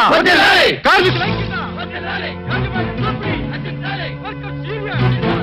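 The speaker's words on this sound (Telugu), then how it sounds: "విన్నావమ్మా కేకలు?" Workers' crowd in a Telugu movie scene chanting and shouting slogans together, a dense roar of many voices rising in rhythmic waves over a sustained low tone, loud and close.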